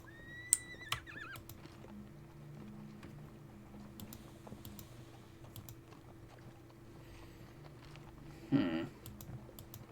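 Cavalry horses neighing and clattering as dragoons are ridden down in a Napoleonic-era war video game around Salamanca, with a whinny early on and a louder burst of horse noise near the end over a steady low game rumble.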